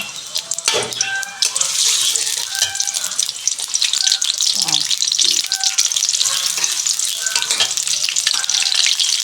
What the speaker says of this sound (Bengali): পদ্ম কচুটা রান্না করার জন্য তেলের উপর পেঁয়াজ দিয়ে দিলাম